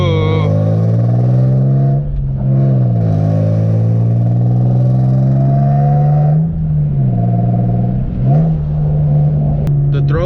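A car with a newly installed B&M short throw shifter on a test drive, its engine droning steadily close by with several rises and dips in pitch as gears change, and a voice talking over it.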